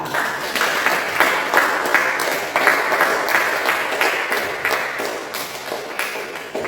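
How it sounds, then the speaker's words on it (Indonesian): A classroom audience applauds for a top-scoring student at a coding lesson, with steady, dense clapping from many hands that carries through the whole stretch at an even, moderately loud level. "Silakan beri aplaus untuk Imelsa"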